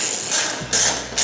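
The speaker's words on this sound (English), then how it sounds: "Then all we gotta do is tighten the two screws." Ratchet tightening screws during fuel pump work on a 2007 Chevy pickup, giving a close, loud run of rapid clicking that pauses briefly and starts again.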